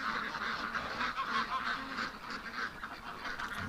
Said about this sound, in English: the ducks are in the pen and they really hate when I'm in here